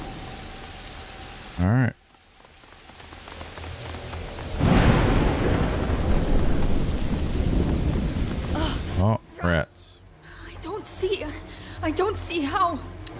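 A thunderstorm with rain in the video game A Plague Tale: Innocence: a swelling rush of rain and rumbling thunder builds and fades over several seconds, with brief spoken voices before and after.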